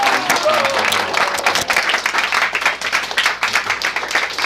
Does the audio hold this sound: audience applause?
yes